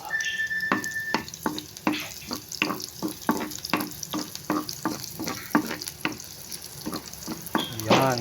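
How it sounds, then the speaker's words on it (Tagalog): Ingredients for chicken adobo sauté in a pan, with a steady close sizzle broken by repeated sharp scrapes and clacks of stirring. "tayo ay magigisa"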